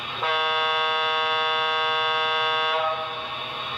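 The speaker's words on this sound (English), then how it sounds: "F3 steam horn." A sustained, multi-tone HO scale model locomotive steam horn from an ESU LokSound decoder blares steadily for about two and a half seconds, then cuts off, leaving faint background hiss.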